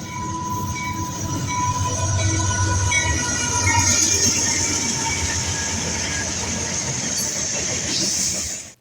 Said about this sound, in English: the second train was a trio of undesirable engines heading west on a manifest